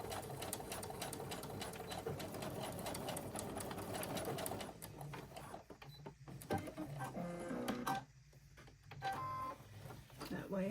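A sewing machine double stitches a fabric office chair cover, a rapid close mechanical chatter that runs steadily at first, then breaks into shorter stop-and-start bursts with quieter gaps.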